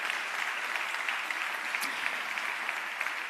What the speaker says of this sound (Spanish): un fuerte aplauso para ellos, para todos los que venís desde toda la geografía española.